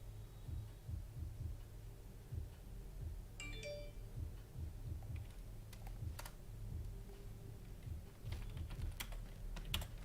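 Quiet typing on a computer keyboard, a scattered run of soft key clicks over a low steady hum, with no talking.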